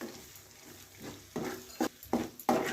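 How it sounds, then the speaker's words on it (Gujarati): A spoon stirs jaggery into dum aloo in a pan, giving soft sizzling and several distinct scraping knocks that grow louder and more frequent toward the end. "હવે નાખશું ગોળ, પછી એને હલાવી લેશું।"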